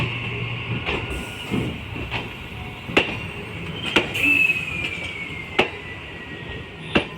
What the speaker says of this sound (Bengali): তখন এই ট্রেনটা সোনারপুরে বেরিয়ে যাচ্ছে